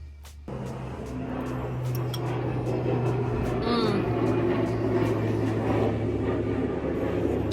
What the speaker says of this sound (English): Mind the plane.